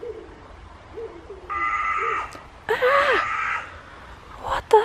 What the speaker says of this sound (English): A crow started screaming.